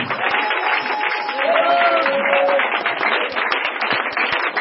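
A church congregation claps and cheers in sustained, lively applause, close and steady, with voices and singing woven through the crowd noise.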